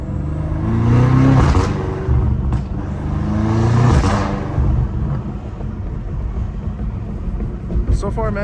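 A BMW M5 Competition accelerates hard through an empty business district, its engine surging and rising in pitch twice in quick pulls, then settling into a rough, close drone.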